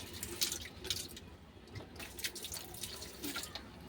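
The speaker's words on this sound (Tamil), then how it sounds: "இதை பாருங்கள் தண்ணி ஊற்றுறேன்" Water poured onto a stone footprint at a hill temple, splashing and trickling in quiet bursts with small drips, fairly close and soft, with no talk over it.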